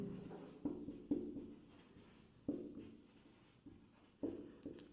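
A pen writing out a math solution on paper, close and soft, with several sharp stroke onsets followed by scratchy scribbling at an irregular pace.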